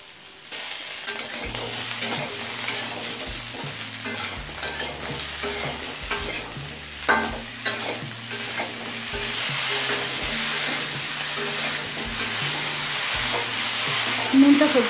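Brinjal, sweet potato and other mixed vegetables frying and being stirred in a pan, with a steady loud sizzle and repeated scraping strokes of a spatula running throughout.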